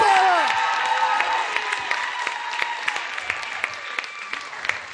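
A comedy club audience at the Laugh Factory Chicago breaks into applause for the winner, dense clapping with a few whoops that gradually thins out, while a voice briefly sweeps over the opening.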